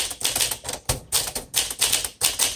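Close, fairly quiet clacking from a 1954 Smith Corona Silent Super manual typewriter, with evenly spaced keystrokes tapping out a rhythmic burst and no voices.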